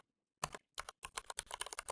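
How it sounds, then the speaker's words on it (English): Rapid, uneven typing on a computer keyboard during coding work, with dense bursts of close, crisp key clicks following a brief silent start. "my typing is embarrassing"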